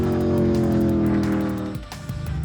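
A 1965 Ford GT40 race car rumbling away at speed on a dry pan during a speed week event, a loud, deep engine drone that holds steady and then drops in pitch as it recedes.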